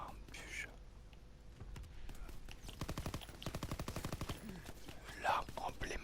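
A Thompson submachine gun firing in a WWII melee video game, heard as a rapid burst of fairly quiet, evenly spaced shots in the middle, with soft whispered talk before and after.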